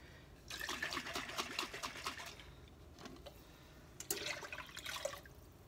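Water pours from a tap into a large can of tomato sauce, a splashing, trickling stream in two bursts separated by a brief pause, moderately close and with no talking.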